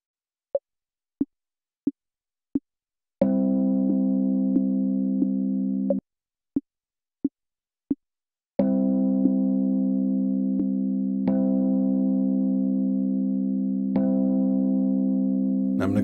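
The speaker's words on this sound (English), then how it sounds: "So I'm going to take this Rhodes note" A sustained Rhodes electric piano tone holds for a few seconds at a time, resampled in Koala Sampler on iOS, interrupted by short, sharp clicking ticks in steady rhythm, with no voices.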